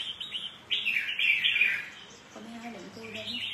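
A caged songbird sings bright, chirping phrases in short bursts, fairly close and clear, with a voice briefly talking near the end.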